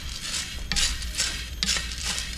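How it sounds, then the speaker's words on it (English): Coffee beans being stirred while roasting in a pan, about a kilogram at a Bali roastery, make rhythmic rattling, scraping bursts that repeat close and fairly loud. "keep stirring until coffee becomes same color, dark brown, and good smell also"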